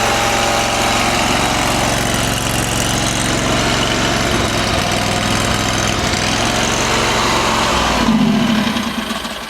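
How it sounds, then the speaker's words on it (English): A 439cc V-twin engine on a Starvox mini skid steer runs steadily with a loud, rattling drone for about eight seconds, then drops off sharply near the end, leaving a quieter low rumble. "I love the sound of the V-twin."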